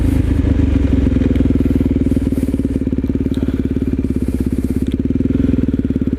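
A motorcycle engine running in second gear at about 15 mph during a clutch-up wheelie demonstration, giving a loud, steady, throbbing drone close to the microphone.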